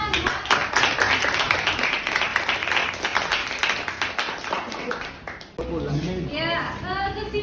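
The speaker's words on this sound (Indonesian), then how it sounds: "beri tepuk tangan" Classroom audience clapping together, a dense, steady patter of many hands that fades out, followed by a voice and brief music at the end.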